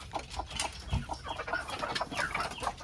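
Hens cluck at a rural home, with repeated short clucks and calls, fairly close and continuous, over soft background noise.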